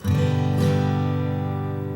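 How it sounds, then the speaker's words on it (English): A guitar strummed in a steady down-and-up pattern, with bright full chords ringing clearly and evenly over two seconds, close and fairly loud with no voice. "then you'd strum down and up like this"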